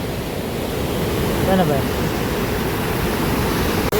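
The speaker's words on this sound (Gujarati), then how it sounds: "પાણીનો ધોધ એટલો શરૂ છે ને, કદાચ તમને અવાજ ન આવતો હોય મારો, કારણ કે પાણીનો અવાજ જ એટલો બધો ચાલુ છે." Water gushes over the overflowing Shetrunji Dam at Palitana in a loud, unbroken roar that fills everything, and someone speaks briefly over it.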